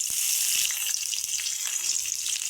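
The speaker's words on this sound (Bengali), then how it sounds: "আলুটা আমার লাল লাল করে ভেজে নিচ্ছি" Potatoes frying in a pan with a steady close sizzle and a few soft stirring clicks, no talk.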